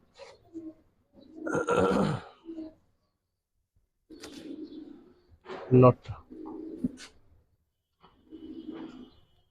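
Military pigeons, a pair including a female, give soft low cooing calls in several separate bursts with quiet gaps between them, nearby and faint.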